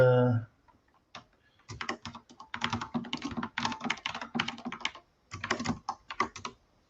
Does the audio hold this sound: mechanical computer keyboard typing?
yes